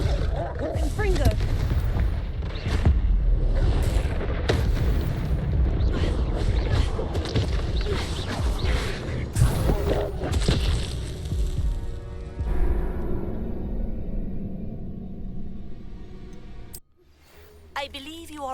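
Spell effects from Hogwarts Legacy, including the Glacier freezing spell and the explosive Confringo, burst out in a dense, loud run of booms and impacts. A voice speaks over the blasts, and everything drops to near silence at the end.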